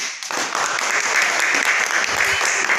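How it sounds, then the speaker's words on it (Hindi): Audience applause at an RCM business seminar, a brisk burst of many hands clapping together, loud and continuous after a quick start. "तो देखिए मैं एक बार हमारे सर के लिए तालियां बजाना चाहूँगी।"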